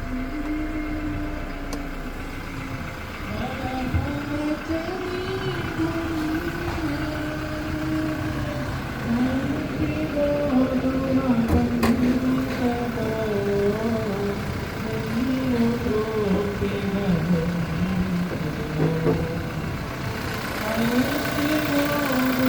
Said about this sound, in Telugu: సింగిల్ సెల్ఫ్ ఇంజన్ అనేది స్టార్ట్ అయింది.